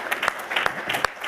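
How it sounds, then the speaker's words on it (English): A small audience applauds at the end of a tech conference talk, a brief, close patter of a handful of people clapping. "We can clap, too, whichever way you want to do it."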